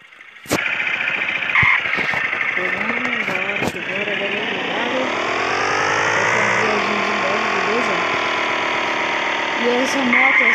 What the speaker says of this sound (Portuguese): E essa moto é 160 cilindradas.